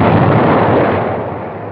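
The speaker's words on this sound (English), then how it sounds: "Sometimes it's necessary to use TNT persuaders, and they are very effective." A TNT charge blasts inside a wrecked pillbox during the 1944 Marines' invasion of the Marshall Islands, a loud, broad explosion roar that fades gradually as debris settles, with no voices.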